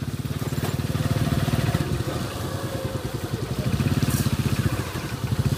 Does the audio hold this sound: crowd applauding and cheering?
no